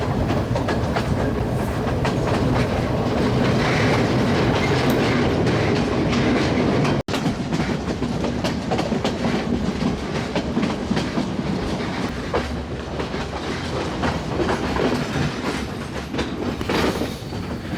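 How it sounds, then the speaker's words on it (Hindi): A train runs along Sri Lanka's winding hill railway, producing a constant loud rumble with rhythmic wheel clatter on the rails and occasional squeals, heard from on board throughout. "ट्रेन लहराती हुई आगे बढ़ रही है बल खाते हुए रोड पे"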